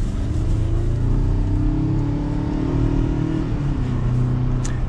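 The four-cylinder engine of a 2022 Ford Ranger FX4 pickup revs steadily, a loud, continuous low drone from inside or near the truck, with no voices over it.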